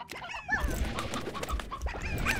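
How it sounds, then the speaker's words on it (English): Chickens cluck in the Slime Rancher video game, with short bird-like calls recurring over a steady ambient bed of game sound and no talking. "I hear chickens."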